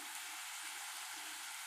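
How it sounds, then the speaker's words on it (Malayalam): Mackerel roast with chilli, curry leaves and a little salt is stirred in a pan, giving a dense, even, steady sizzle and hiss throughout, close and unbroken. "നല്ലോണം ഇളക്കി കൊടുക്കാം കേട്ടോ."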